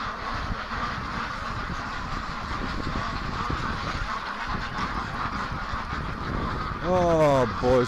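Free-range ducks packed into a straw-filled barn, a constant noisy chatter of quacks and rustling, with a few louder honking calls rising near the end.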